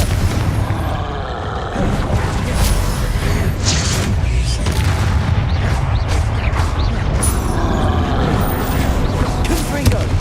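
Confringo blasting spells from Hogwarts Legacy burst again and again amid dense combat noise, with loud booms, crackles and mechanical clatter running nonstop at close range, and shouted voices over the top.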